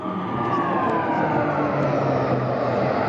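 Police and fire brigade vehicles pass in a military parade in Thessaloniki, a steady loud broad drone of engines with a faint siren-like tone, continuous throughout.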